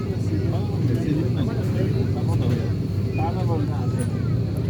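Airliner landing at Dhaka airport, heard from inside the cabin as a steady, loud low engine and air rumble that continues unbroken, with someone talking over it throughout.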